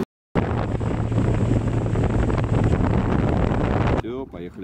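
Boat outboard engine revving hard under increased throttle during a sailing and boat-handling course on Lake Seliger, a loud steady roar mixed with wind buffeting before cutting off, followed by a brief voice.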